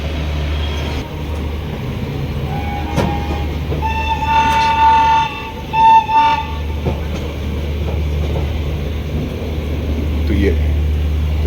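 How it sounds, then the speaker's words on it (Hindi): The Lucknow–New Delhi AC Superfast train rolls into New Delhi station in heavy fog, a steady low rumble under a long sustained horn blast mid-clip, with clicking wheels and voices faintly around. "अपनी जो ट्रेन है वो पहुंचने वाली न्यू दिल्ली"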